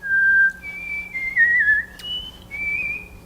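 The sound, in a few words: person whistling a tune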